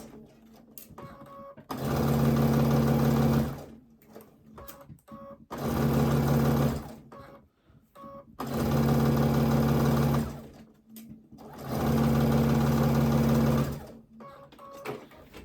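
A sewing machine runs fast across quilt fabric pieces for half-square triangles, in four long, loud, steady stitching runs separated by brief pauses and small handling noises.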